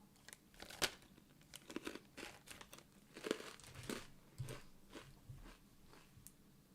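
A crunchy Tokyo Treat snack is chewed close to the mic, giving quiet, irregular crunches and crinkles at a soft level.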